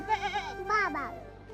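A goat bleats twice in quick succession, with wavering, quavering cries that are fairly close but not loud, and a quieter background follows.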